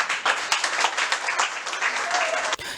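Audience applause at an evening gathering: dense, steady clapping from a crowd that holds for nearly three seconds and then cuts off sharply near the end.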